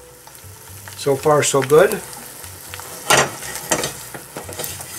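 Egg frying in butter in a Matfer Bourgeat carbon steel pan, giving a steady soft sizzle throughout, with someone talking briefly over it and scraping or stirring sounds near the end.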